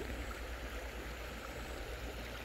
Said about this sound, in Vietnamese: nhưng mà ngày hôm nay nước chảy khá là mạnh.